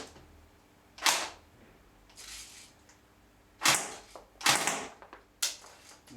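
A D90H electric airsoft machine gun fires several short bursts, each a sharp mechanical rattle, separated by quiet pauses, close and fairly loud.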